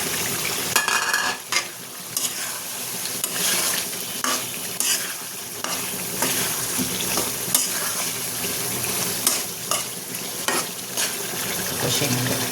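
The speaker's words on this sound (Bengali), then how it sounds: "এখন আমি এই যে ভেজে রাখা মাংসটা দিয়ে দিচ্ছি।" Fried meat is stirred into cooked spices for a jackfruit curry, giving a loud continuous sizzle with repeated scraping and clinks of a spoon against the pan.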